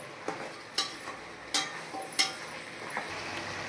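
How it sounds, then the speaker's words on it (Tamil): Peas, potato, carrot and beans sautéing in a pan for a Tamil home lunch, quiet sizzling under several sharp scrapes and clinks of a spoon stirring against the pan at irregular intervals. "பாருங்கள், காய் நல்லா வதங்கி வந்துடுச்சு"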